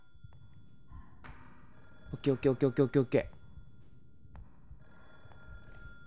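Old black rotary telephone ringing in a janitor's room within a horror game, a burst of about six rapid bell trills lasting around a second, heard clearly under a quiet voice repeatedly talking.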